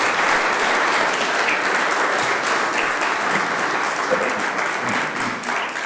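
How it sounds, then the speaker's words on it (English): Sustained applause from an audience for forum participants at a public forum on a sales tax ballot issue, a dense steady wash of many hands clapping that tapers slightly at the end. "Let's give them a round of applause"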